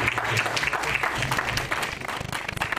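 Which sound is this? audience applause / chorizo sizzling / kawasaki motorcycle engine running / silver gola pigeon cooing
audience applause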